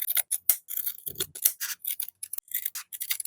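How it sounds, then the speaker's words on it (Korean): Scissors trimming fabric seam allowance to 1 cm on a zippered shoulder bag, a rapid series of crisp close snips and shearing cuts, repeated many times with no talking. "시접을 1cm 남기고 잘라줍니다"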